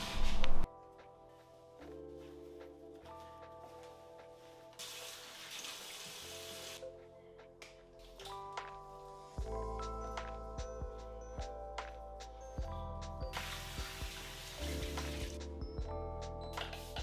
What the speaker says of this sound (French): Et je vais aller donc me laver le visage.